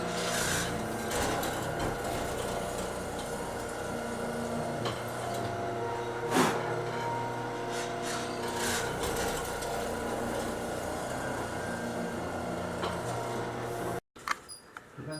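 Router or chisel work cutting 1/4 inch mortises, 1.5 inches deep, into the breadboard ends of a 19th-century style clerk's desk: a steady close rasping, grinding drone with one sharper knock partway through, stopping abruptly near the end.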